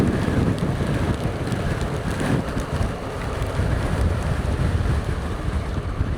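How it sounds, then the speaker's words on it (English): Heavy rain and wind beat against a rider on a moving motorcycle, a steady loud broadband roar of wind buffeting and rain hiss that carries on unbroken throughout. "And the rain lashes down. It's getting quite brutal now."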